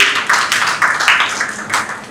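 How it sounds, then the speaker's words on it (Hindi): An audience at a housing society redevelopment seminar claps in a short burst of applause, with uneven, fairly close hand claps rising and fading over about two seconds. "जोरदार ताली बजाओ सभी के लिए।"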